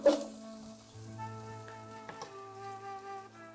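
Kashmiri chili powder hits hot oil in a pot for beef nihari, giving a soft steady sizzle with a sharp burst at the start, faint clinks and a low background hum, no voices.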